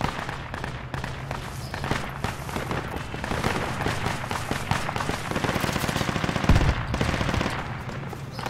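Rapid bursts of automatic fire from a Browning Automatic Rifle (BAR) in Project Reality, a city battle scene, loud and close, with a dense crackle of other gunfire and distant booms mixed in, the shooting holding steady for several seconds.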